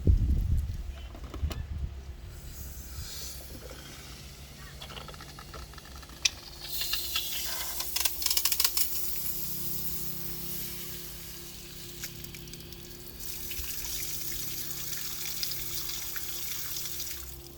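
Water runs from a freshly turned-on city water hookup at a Mercedes Plateau TS camper van, a steady hiss and splash that builds after a brief handling noise and carries on outdoors, with faint background sounds.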